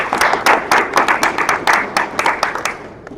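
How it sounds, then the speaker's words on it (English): Audience applause at a digital business summit session, a steady run of close, crisp claps from a modest crowd lasting about three seconds and tapering off at the end. "Big round of applause."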